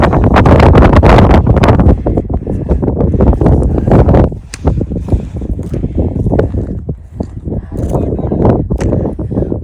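Strong cold wind buffeting the microphone on a steep Himalayan trek in the Annapurna region, a loud continuous roaring rumble with gusty surges, under occasional talk.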